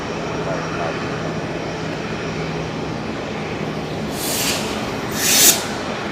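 Aircraft departing Brisbane Airport, a steady broadband engine roar at moderate distance, building slightly toward the end, with bursts of hissing noise near the close.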